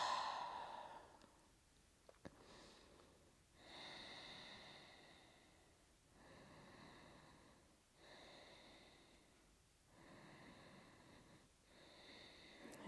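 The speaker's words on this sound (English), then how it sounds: "Just breathe." Slow, deep breaths during a seated yoga hamstring stretch, with soft audible exhales recurring roughly every two seconds; quiet and close, with no talking over them.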